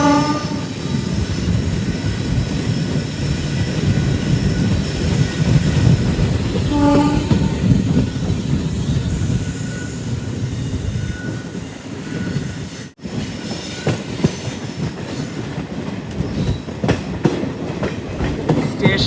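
Jan Shatabdi Express running into Kollam railway station, a loud continuous rumble and clatter of carriages with a brief horn-like tone midway and a sudden shift in sound near the end.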